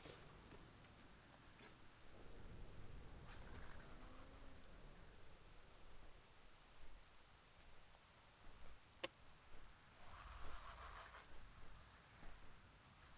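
Rain falling steadily during a storm, a soft broadband patter with a faint distant rumble of thunder, heard from indoors at low volume with a few sharper ticks.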